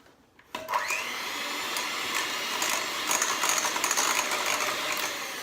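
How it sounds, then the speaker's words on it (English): An old electric hand mixer whirs continuously at close range, beating coconut sugar and almond butter into a paste for chocolate chip blondies, with a steady motor drone and rattling beater clatter and no voices. "I love these old hand mixers, don't you?"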